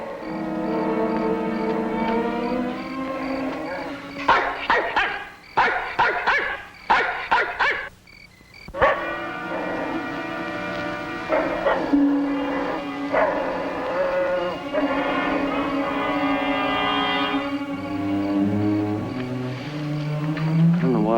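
A dog in a 1966 creature film barks and yips in a burst of sharp, close calls, heard over a continuous orchestral score that plays throughout.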